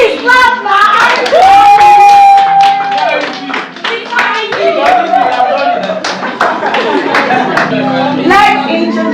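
An audience at a school Teacher's Day celebration claps along in scattered, irregular bursts, mixed with children's voices and a speaking voice over much of the stretch.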